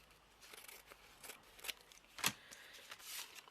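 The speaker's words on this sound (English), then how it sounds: "let me just trim these edges off." Scissors snip along the edges of waxed paper during a mixed media craft, giving several short, crisp cuts spaced irregularly at close range with no talking.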